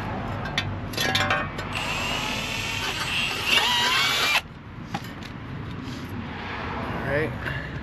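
Power drill boring with a 7/32 bit during an AC installation on an LS-swapped S10, a whining spin lasting a few seconds before winding down, with people talking throughout.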